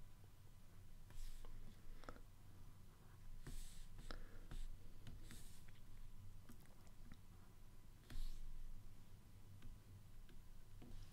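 Chalk or marker sketching a diagram of the Moon's orbit on a board, irregular scratchy strokes and light taps spread across the stretch, fairly faint over room hum, with no talking.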